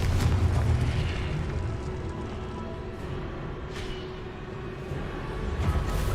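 Explosive Confringo spell in the Hogwarts Legacy video game: a loud, sustained rumbling boom with low-end weight that carries through the whole stretch, swelling again near the end, with no talk over it.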